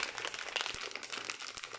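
Plastic packaging on a Christmas cross-stitch kit crinkles and crunches as it is torn open. The crackling is close and continuous, with no talking.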